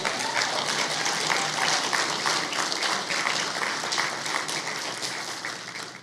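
A crowd applauds with steady, dense clapping that holds for several seconds before easing slightly toward the end.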